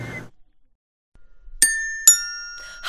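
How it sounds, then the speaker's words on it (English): A doorbell sounds twice in clear, bright chimes with ringing tones that linger, following a brief voice at the start and near silence in between. "when they ring the doorbell, I just know it's time to relax"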